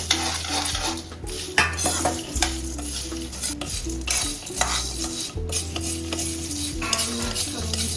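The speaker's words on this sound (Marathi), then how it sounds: "आता ह्याच्यामध्ये आपण हे टाकून देऊ आणि थोडंसं मध्ये फ्राय करू" Spices stirred and fried in a pan for a masala, with rhythmic scraping of a metal utensil against the pan over a low sizzle, each stroke clearly audible and close, with no voices.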